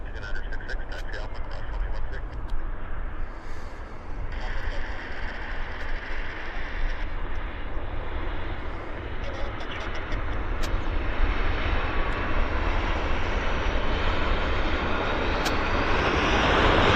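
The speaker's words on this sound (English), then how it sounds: "It's a Delta Airlines Embraer. It's just setting up on the numbers." A Delta Airlines Embraer jet on final approach at Vancouver Airport roars with a steady engine drone that swells louder, with a voice talking over it.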